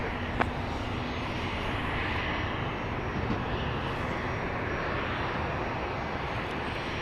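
Beechcraft King Air B200 turboprop at Dallas Love Field at night, a steady broadband engine roar held constant at moderate distance without pauses.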